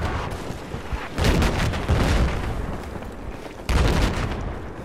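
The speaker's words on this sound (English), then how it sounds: "He's dropping those bombs right now" Bombs dropped by a bomber in the video game Battlefield 4 on the Silk Road map, heavy booming blasts in several bursts with rumbling tails and scattered gunfire between them, no talking.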